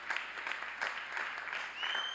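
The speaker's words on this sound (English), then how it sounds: "Let's give them a big round of applause and show our commitment to our faculty." A crowd at the SIUC spring 2021 commencement ceremony applauds in a steady, fairly distant wash of clapping with small swells, heard alone without talk.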